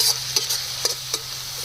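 A spoon stirs chilli sauces and vinegar together in a hot pan for a fast-food-style fried rice, a few quick scraping strokes over a faint steady sizzle, no voices.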